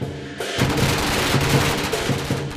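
A rapid, continuous crackle of firecrackers bursting close by at a lion dance, loud and dense, with a steady clanging drum, gong and cymbal percussion pulsing underneath.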